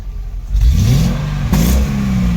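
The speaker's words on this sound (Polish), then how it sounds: "Auto jest trochę zimne, więc my je na jałówce szybko podgrzejemy" A cold Mercedes W210 E55 AMG V8, warming at idle, is blipped into quick revs that surge and settle back into a deep, loud rumble.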